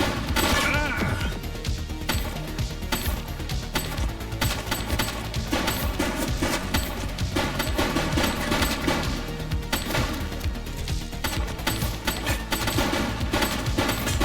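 Rapid gunfire rattles in The Precinct, a police action video game, as dense bursts of shots and impacts pile up over game music and effects, loud and nearly continuous throughout.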